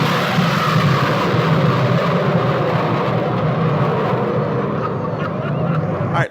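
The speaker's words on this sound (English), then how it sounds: "This is a Blue Angel flying 20 feet off the water down" A Blue Angels jet flying about 20 feet above the water along the Pensacola coast, a loud broad continuous engine roar that holds steady throughout, then cuts off abruptly at the end.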